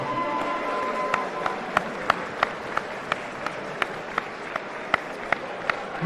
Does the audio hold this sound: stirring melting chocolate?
no